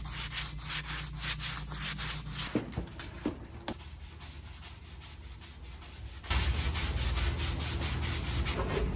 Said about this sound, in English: Now I'm going to hand sand this with a higher grit.